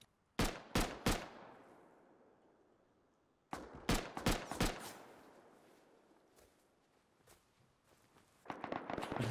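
Gunfire from an LR rifle in the video game Rust, loud sharp cracks in quick bursts of three and more, separated by quieter gaps with fading echoes.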